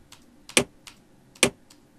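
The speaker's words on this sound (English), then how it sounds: "So I got a click sound here." Clicks sampled from a vending machine: two sharp, loud clicks about a second apart, each trailed by fainter ticks, standing alone against a quiet background.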